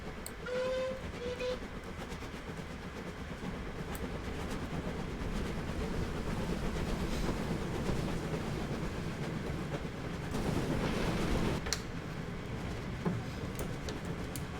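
A train on the Speyside Line in a train simulator game rolls along with a continuous low rumble and rhythmic wheel noise, a short whistle blast near the start and a swelling rush later on, heard alone.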